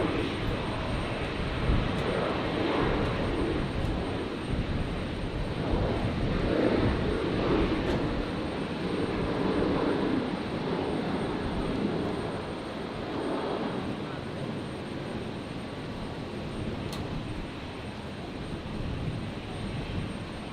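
Airliner engines rumble steadily on a runway at Brisbane Airport on a stormy night, a broad, constant roar at moderate distance that holds for the whole stretch.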